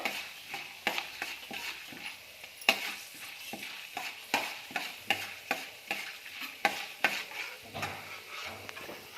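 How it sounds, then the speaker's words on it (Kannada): Chana dal frying in oil for vangi bath, a spoon scraping and stirring through it in steady repeated strokes over a constant close sizzle, with no talk. "ಕಡಲೆಬೇಳೆ ಬೇಳೆ ತೊಗೊಂಡಿದ್ದೀನಿ ಅದನ್ನು ಹಾಕೋತಾ ಇದ್ದೀನಿ"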